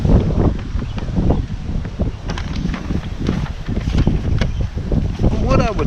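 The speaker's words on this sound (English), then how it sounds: "today's rather windy as I sit up here on the hill" Gusty wind buffets the microphone in uneven rumbling bursts, with occasional rustling on an exposed hilltop in spring.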